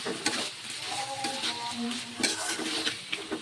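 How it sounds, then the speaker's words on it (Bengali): Meat pieces tumble into a pan of fried spice paste and sizzle, with stirring scrapes and utensil clinks against the pan, fairly close, as a voice talks over the cooking. "এখন মশলাটা কষানো হয়ে যাওয়ার পর আমি দিয়ে দিচ্ছি মাংসগুলো"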